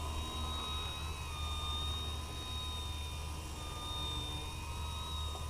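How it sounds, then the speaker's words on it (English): A radio-controlled 3D aerobatic airplane hovers nose-up and torque rolls, its motor and propeller holding a steady, loud, high droning whine with a constant tone for several seconds and no voices over it. "Once we get it into a hover, we're just going to let the plane roll."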